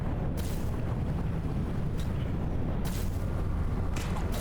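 Vortex missiles explode underwater in the video game Subnautica: Below Zero, giving a steady loud rumbling roar with several sharp bursts breaking through at intervals.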